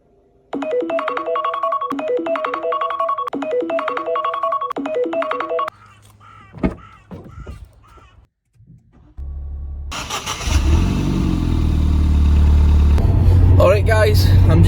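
A repeating electronic chime melody plays, then after a quiet gap a Ford Fiesta ST's engine and road rumble swell as it joins a motorway and stay loud, close by, to the end.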